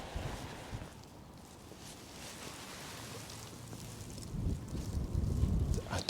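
Cold wind gusts across an open Yorkshire railway viaduct, a broad rushing roar that buffets the microphone and swells louder toward the end.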